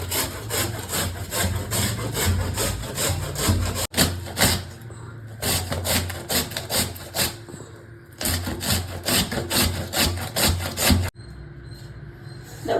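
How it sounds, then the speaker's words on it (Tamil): Beetroot for dosa batter is grated on a grater in repeated rapid rasping strokes, close and steady in three long runs separated by brief pauses. "நான் இன்னைக்கு இந்த கட்டையில் செத்தி போட போகிறேன்."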